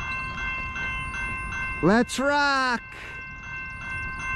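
CSX M406 freight train passing, with a steady rumble, a short loud horn blast in the middle and a continuous tonal whine, and someone speaking briefly over it.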